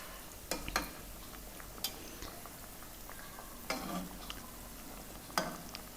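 Sweet meethi tikiya fry gently in oil over a low-medium flame, giving a soft, faint bubbling sizzle with occasional sharp utensil clicks and scrapes near the pan.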